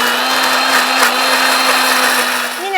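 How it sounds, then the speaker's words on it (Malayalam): A mixer grinder blends a thick milkshake of milk, running as a loud, steady motor whine with a sustained high buzz throughout and a brief pitch change near the end as it slows. "ഇനി നമുക്കിത് മിക്സിയിൽ വെച്ച് നന്നായിട്ട് അരച്ചെടുക്കാം"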